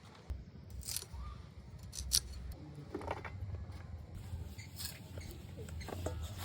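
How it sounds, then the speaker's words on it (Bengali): Fresh vegetables from a home garden are cut outdoors in the morning sun, giving a few sharp, crisp snipping and crunching strokes spread through the clip over a steady low outdoor background. "এখান থেকে কেটে নেব দেখেছেন ফ্যাস করে কেটে গেল"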